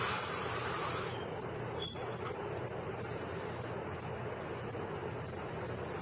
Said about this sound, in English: spray it with your finishing spray